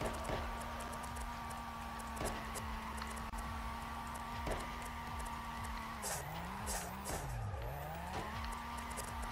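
A car drifts in the CarX Drift video game, its steady engine drone rising and dipping in pitch as the tires skid and squeal continuously, close and unbroken throughout.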